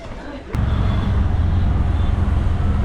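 Inside an auto rickshaw moving through Mumbai traffic toward Borivali station: a loud, steady low engine drone and road rumble that rises sharply after a brief thump at the start, with a voice faintly mixed in.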